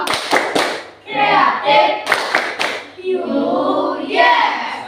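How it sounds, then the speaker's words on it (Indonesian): A school class of children claps their hands in rhythm, sharp unison claps mixed with loud group chanting voices. "Tepuk tangan untuk kita semua."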